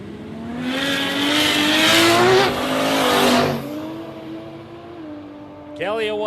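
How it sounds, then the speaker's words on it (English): A drag racing car at Warwick Dragway, loud and close, with the engine revving hard as the throttle is blipped on and off, then a steady idle and a brief squeal near the end. "You could hear him on the throttle, on, off, on, off, on, off a couple of times."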